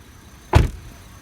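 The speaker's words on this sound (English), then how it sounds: "I'm gonna pop the hood." The hood of a 2011 Ford Taurus SHO is released with a single short, sharp thunk of the latch, loud and close, alone against quiet background.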